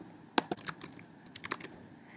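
Computer keyboard typing during a database subject search: a handful of crisp, irregular clicks and taps, close and fairly quiet, with no one speaking.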